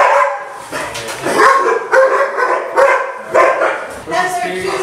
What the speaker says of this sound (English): That's our two dogs.